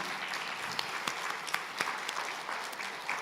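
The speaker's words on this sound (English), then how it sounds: "I think we all need to applaud him" Applause from an audience at a symposium, steady and moderately distant, with scattered sharper claps standing out in a continuous wash.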